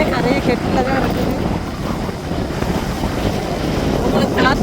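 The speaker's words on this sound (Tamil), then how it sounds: "ஏன்னா அந்த காற்று வந்து அதிகமாக அடிக்கிறதுனால" Strong wind buffets a seashore where fishing boats sit beached, a loud, continuous gusty rush mixed with surf, with a voice talking over it.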